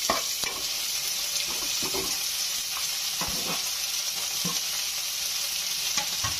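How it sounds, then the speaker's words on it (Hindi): Crushed garlic, green chili and crushed ginger fry in hot oil, giving a continuous close sizzle with occasional soft clinks and stirring scrapes from a utensil. "और इसको थोड़ी देर फ्राई होने देते हैं।"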